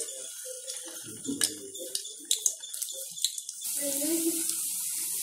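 Cabbage manchurian balls go one by one into hot oil over a low flame, setting off a bubbling sizzle that swells toward the end, with someone talking over it.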